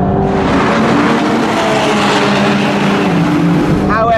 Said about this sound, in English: It gets countered by having a much louder exhaust, thanks to the Opus upgrades.